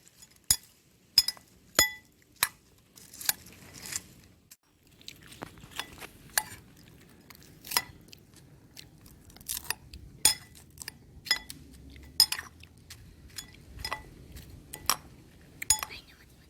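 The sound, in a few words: mixing pepper powder into Lays masala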